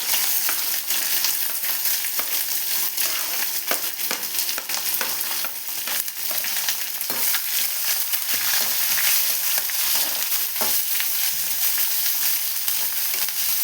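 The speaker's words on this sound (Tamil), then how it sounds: "இந்த ஆனியன் கூட கொஞ்சமாக உப்பு சேர்த்து வதக்கிக்கலாம்." Chopped onions sauté in a hot pan with salt while an egg aval dish is cooked. Steady close crackling sizzle, with occasional stirring scrapes, no talk.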